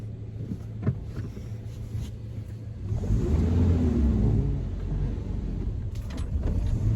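A manual transmission car driven by a teenager pulls away, engine rumble rising into a steady, loud acceleration heard from inside the cabin, with wind noise and faint clunks.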